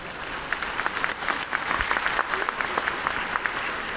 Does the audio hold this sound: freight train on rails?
no